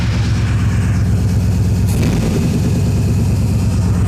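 A Monte Carlo's engine idles at about a thousand RPM after a carburetor adjustment, a steady, loud, close rumble with an even low pulse and a slight rise in throttle near the middle.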